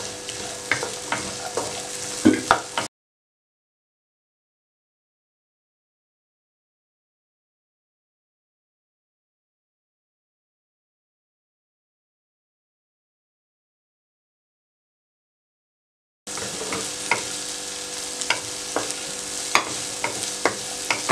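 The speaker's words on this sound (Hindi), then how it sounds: "इसमें 1 मिनट तक आप मज़ीद फ्राई करें ताकि प्याज भी नरम हो जाए।" Onions frying in a pan for chicken vegetable noodles give a steady close sizzle with light stirring scrapes, in two stretches separated by a long gap of total silence.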